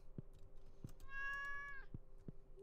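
In the video game Stardew Valley a cat gives a single clear, drawn-out meow, with soft clicks and faint taps around it.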